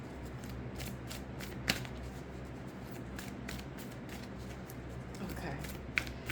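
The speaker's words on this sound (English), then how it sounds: "I'm going to just give it one more shuffle" A deck of oracle cards is shuffled by hand: steady soft riffling and sliding, with a couple of sharper taps, while someone speaks over it.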